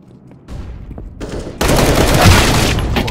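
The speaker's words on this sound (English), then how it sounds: "Throwing flashbang!" Gunfire in the CS-GO video game bursts out in rapid, loud volleys that build into a dense, sustained barrage of shots during a competitive match.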